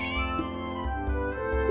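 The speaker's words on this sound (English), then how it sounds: "Meow." A cat in a Touhou video game gives a short, clear meow, bright and tonal, against quiet background game audio.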